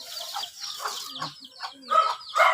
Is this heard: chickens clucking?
yes